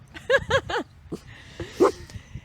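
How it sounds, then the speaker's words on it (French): Several dogs bark in a quick run of three or four sharp, close yaps, then let out scattered whiny yips and a louder bark, with faint human voices in the background. "Oui, il y a beaucoup de chiens."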